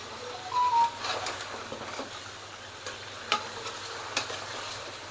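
Beef trotters fry in a pot while being stirred, a steady close sizzle with occasional scraping stirs and light clinks, no talking over it.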